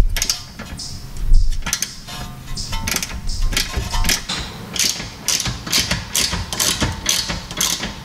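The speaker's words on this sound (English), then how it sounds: "get the socket on and break it loose" A socket wrench ratchets on a suspension bolt during a 3-arm camber kit install on a car's rear suspension, giving steady runs of close, crisp mechanical clicks and creaks with no talk.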